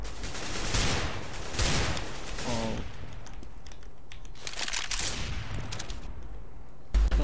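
Rapid gunfire in Counter-Strike: Global Offensive, loud bursts of shots spread through the clip over steady game noise, with a sharp hit near the end.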